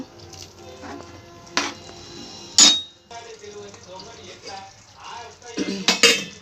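Pea and potato kurma stirred in a metal pot, spoon clanks and scrapes against the sides at intervals, with a voice talking in between.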